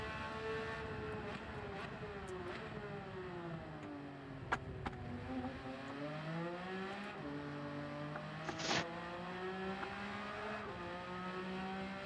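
Race car engine in the Gran Turismo 7 video game, loud and continuous, revving up and down through the gears as the driver works to heat the tires, with a brief sharp burst near the end.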